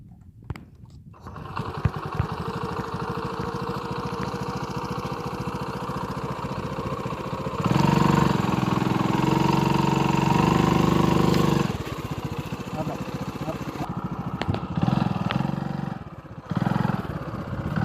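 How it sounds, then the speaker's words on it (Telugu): A TVS XL 100 moped-style motorcycle engine runs steadily up close, rising to a louder, rougher tone in the middle and again near the end, with no talk over it. "బైక్ నేర్చుకుంటున్నాను చూడండి"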